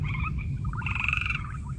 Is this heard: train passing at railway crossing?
no